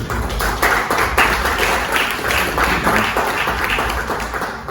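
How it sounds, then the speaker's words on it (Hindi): A close, loud audience claps at a celebration program, with dense clapping that pulses in a rough rhythm and holds steady throughout. "ताली लगा दो एक बार"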